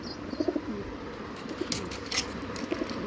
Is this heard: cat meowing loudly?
no